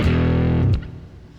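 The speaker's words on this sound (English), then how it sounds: "that's a tweed bassman" Electric guitar through an amp modeler set to a tweed Bassman amp model, a sustained distorted chord ringing loudly then decaying after a second strum, with no talking.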